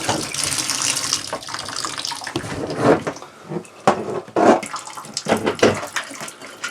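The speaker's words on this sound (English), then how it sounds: "So we're going to turn the faucet on, pull the thingy up, and now the shower is done." An RV shower faucet turned on runs water in a steady stream for the whole stretch, with louder splashing bursts toward the end and no talking.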